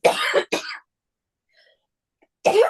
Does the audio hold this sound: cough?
yes